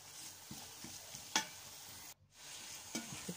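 Chopped tomatoes stirred and frying in a pan for a biryani-style rice dish, with a steady soft sizzle and a few scraping spoon strokes, heard close and fairly quiet with no talking.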